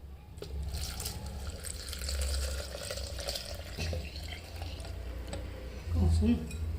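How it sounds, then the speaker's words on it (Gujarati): About 600 ml of milk pours into a blender jar over chickpea and dry fruit powder for a protein shake, making a steady liquid gurgle with a brief swell near the end and a faint indistinct voice in the background. "છેલ્લે આપણું છસો એમએલ જેટલું જે દૂધ હતું એ રેડી દઈશું"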